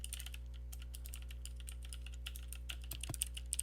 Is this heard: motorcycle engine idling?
no